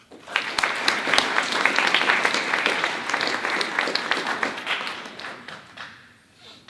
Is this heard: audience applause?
yes